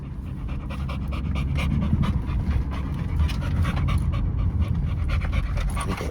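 A brindle dog pants steadily outdoors by a fence, a rapid, continuous, close breathy rhythm running the whole time with no talking.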